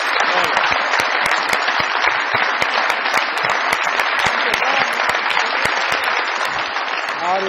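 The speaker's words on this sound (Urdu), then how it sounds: "بہت ساری تالیاں جی۔" Studio audience of a Pakistani comedy talk show breaks into sustained applause for an arriving guest, a loud, dense crackle of many clapping hands holding steady without speech.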